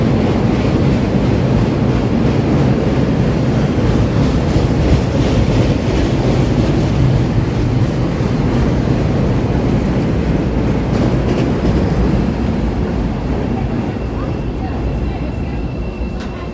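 A loud, continuous Chicago L elevated train rumble heard from inside a car, with rattling and rushing air filling the whole stretch, steady and close, gradually easing slightly toward the end.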